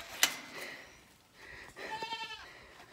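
A goat bleats in a short, wavering call near the end, with a sharp knock earlier and quiet farmyard ambience around it.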